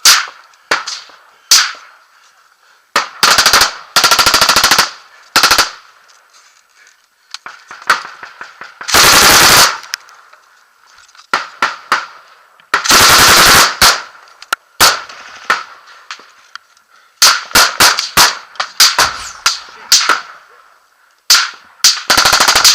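Bursts of rapid machine gun fire crack out in irregular clusters, some long rattling strings and some short volleys, separated by brief pauses.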